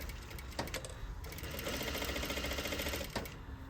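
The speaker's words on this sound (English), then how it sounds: "we're gonna sew and then back tack" A sewing machine runs a top stitch along an outer convex curve of fabric at a 1/2 inch seam allowance, with a steady rapid mechanical rattle of the needle for about three seconds between brief clicks at start and end.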